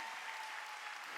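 A church congregation claps during a Korean sermon, a soft, distant, even patter of many hands with no clear individual claps.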